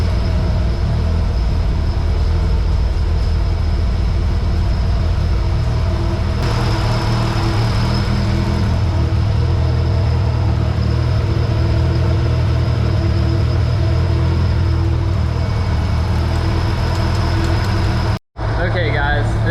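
A Nissan 240SX with a CA18DET engine idles steadily after its first start, running lean with a loud, constant low rumble and a thin whine that drops out briefly near the end. Faint voices sound beneath it.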